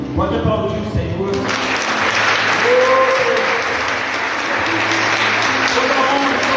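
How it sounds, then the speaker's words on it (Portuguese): A church congregation applauds at a celebration service, a dense, loud wash of clapping that swells in after a brief voice at the start and carries on steadily to the end. "Pode aplaudir o Senhor."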